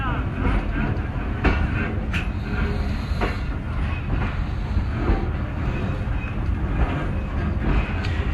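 A Hazara Express train pulls out of Jhang Sadar railway station on a cold night, with a steady rumble of wagons, clattering wheels and occasional sharp squeals, heard from on board.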